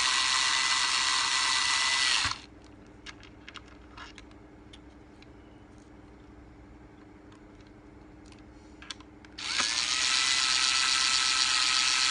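A power drill or driver runs loudly in two steady whirring bursts, driving screws while mounting a 4G SIM-card CCTV camera, with a quiet gap of faint ticks and handling noise between them.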